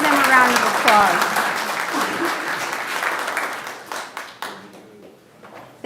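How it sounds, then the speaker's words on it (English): City council meeting attendees applaud a scout troop after it posts the colors. Dense clapping starts strong, then thins into scattered claps and fades, with voices talking over it. "Give them a round of applause."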